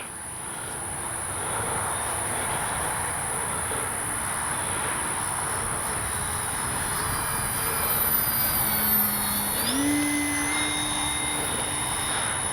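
Electric RC airplane, an Avios Kobuz, flying overhead with a steady high motor whine over broad wind noise; the pitch rises sharply near 9–10 seconds as the throttle comes up.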